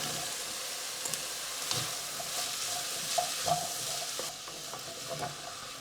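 Carrot leaves and carrots hit a hot pan for a vegan carrot sabzi, giving a steady close sizzle of frying with scattered stirring scrapes and small clinks throughout.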